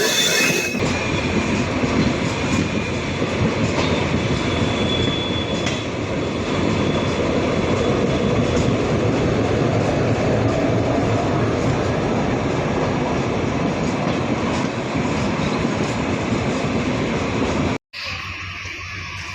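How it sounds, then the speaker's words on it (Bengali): A Chilahati-bound passenger train rumbles loudly and steadily, wheels grinding and squealing on the rails as it rolls into platform 2 of Domar railway station, Bangladesh, and slows, then the noise cuts off abruptly near the end. "আমাদের ট্রেন প্রবেশ করলো ডোমার রেলওয়ে স্টেশনের 2 নম্বর প্ল্যাটফর্মে।"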